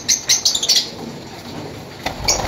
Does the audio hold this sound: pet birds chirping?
yes